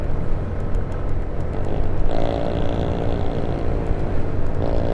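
A Suzuki Burgman EX 125 scooter engine climbs a hill while riding, a loud steady drone with rising pitch as the throttle opens, mixed with wind rush close to the rider.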